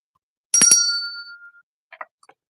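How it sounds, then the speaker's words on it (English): A bicycle-style bell is rung once, a sharp bright double ding ringing out and decaying, followed by a few faint small clicks in otherwise quiet surroundings. "Gonna ring the bell for that too."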